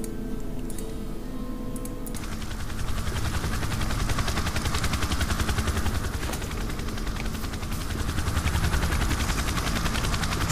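In the game S.T.A.L.K.E.R.: Shadow of Chernobyl, a military helicopter's rotor sets up a loud, rapid, continuous chop after a quieter opening, with no voices.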